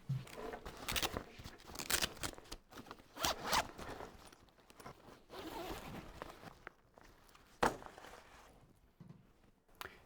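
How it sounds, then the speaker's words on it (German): Close zipper being pulled open on a Snigel Bundeswehr backpack, several rasping runs with soft fabric handling and bumps in between. "nochmal ein Reißverschluss. Wenn ihr den halt aufmacht"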